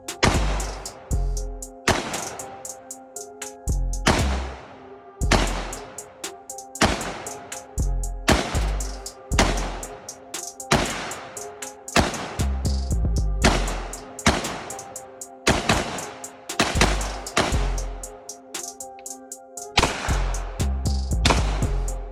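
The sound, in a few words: gunshots from a VZ58 rifle (AK variant) hitting pumpkins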